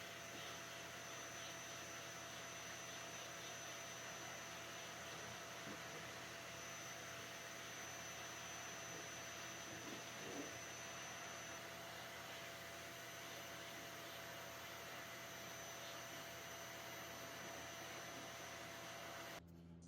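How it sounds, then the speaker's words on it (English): A shop vacuum runs steadily while sucking up baking soda from a wooden accent table, a constant loud whine and rush that holds unchanged throughout and then cuts off abruptly. "I just used my shop vacuum to suck up all that baking soda."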